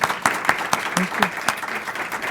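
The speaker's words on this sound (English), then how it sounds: "ask for an applause for what a great presentation" Audience applause after presentations at a teaching session Q&A: a short, lively burst of clapping from a crowd, with a voice partly over it.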